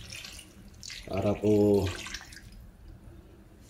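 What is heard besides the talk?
water being added to a cooking pot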